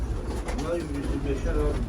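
A pigeon at a Turkish pigeon market gives soft, repeated coos close by, partly under people talking nearby.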